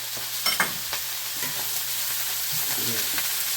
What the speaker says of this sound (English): Getting that char, and I'm gonna add a little bit of these onions.